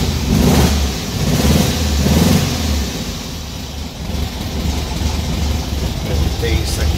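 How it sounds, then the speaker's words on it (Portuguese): Engine of a 1968 Volkswagen Fusca 1300 running steadily with a couple of swelling revs early on, close and loud, with faint talk over it. "e o motor também, qualquer hora que você liga, às vezes fica meses sem ligar, na hora ele pega"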